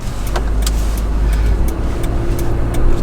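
A Toyota 4Runner Nightshade drives along a street with a continuous low engine drone and road rumble, recorded close with steady loudness and no talking.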